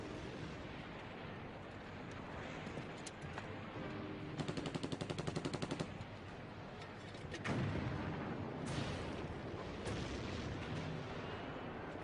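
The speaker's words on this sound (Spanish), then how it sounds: "Los australianos luchan fuertemente apoyados por los disparos de los tanques estadounidenses." Artillery and tank guns fire in a Korean War battle, a dense, continuous rumble of blasts with bursts of rapid machine-gun-like rattling, steady and moderately distant, with no voices.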